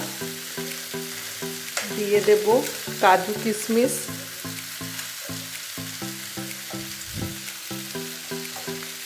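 A potato vegetable chop mixture with fried nuts and raisins is stirred and scraped in a pan, with a few bursts of scraping over steady tonal background music, and a person speaks briefly.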